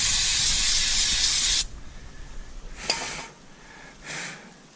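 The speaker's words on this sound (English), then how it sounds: "And I'm just going to hit it with some brake cleaner." Brake cleaner sprayed onto a Ram pickup brake part: one loud, steady aerosol hiss for about a second and a half, then quiet shop background with a couple of faint soft rustles.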